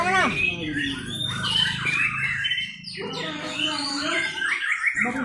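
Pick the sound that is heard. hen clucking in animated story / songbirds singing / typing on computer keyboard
songbirds singing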